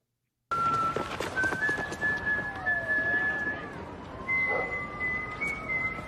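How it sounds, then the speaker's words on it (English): A whistled melody of sustained, gliding notes over steady broadband noise, with a short pause partway through before the tune resumes. "So here's the whistling."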